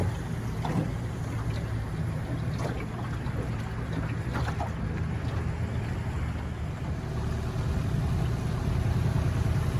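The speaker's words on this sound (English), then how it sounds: "these boats here, when they enter this zone, have to slow down to 6 knots" Boats idle slowly through a 6 knot no-wash zone, giving a continuous low engine rumble mixed with faint water wash and a little wind, steady throughout with no talk.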